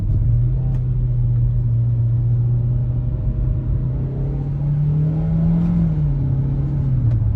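A 2022 Kia Forte LXS engine revs loudly and steadily, the pitch rising toward a peak near the end as it downshifts, then easing off, with constant road rumble beneath.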